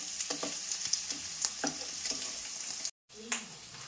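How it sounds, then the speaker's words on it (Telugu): Paneer fries lightly in a pan with a steady soft sizzle, broken by several quick scraping turns of a spatula as the pieces are flipped, then a brief dropout. "వన్ సైడ్ మగ్గిపోయింది, మళ్ళీ ఇంకో సైడ్ మగ్గనిద్దాం కొంచెం లైట్గా."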